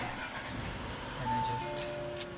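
An Audi A4 B9 engine cranks and catches, a short mid-pitched start rising into a steady idle hum, fairly close and heard alone without talk.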